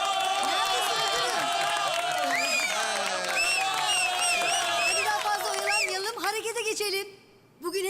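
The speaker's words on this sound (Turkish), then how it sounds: "Müdür Dilaver'e bir alkış." Children in a school audience cheer and applaud for their principal at a stage show, a loud, busy mix of shouts, whoops and clapping with voices over it, dropping off abruptly near the end.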